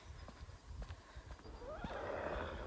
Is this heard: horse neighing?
yes